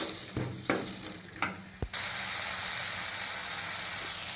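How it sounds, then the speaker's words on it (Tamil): Chopped tomatoes with a little salt hit a hot pan for oil brinjal curry: a few clinks and scrapes of a utensil, then a sudden loud, steady sizzle that keeps going, with no speech. "நல்லா தக்காளி வதங்கட்டும்."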